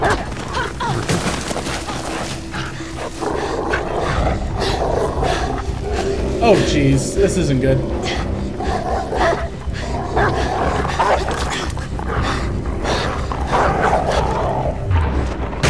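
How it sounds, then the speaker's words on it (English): A dog in Beyond Two Souls barking and snarling aggressively amid growling, roar-like game sounds, loud and busy, with someone talking over it. "That's a dog."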